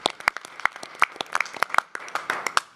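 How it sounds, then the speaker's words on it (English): Sparse applause at a university committee meeting, a handful of people clapping close by with distinct, uneven individual claps rather than a full roar. "if you're in the mood to give her a round of applause"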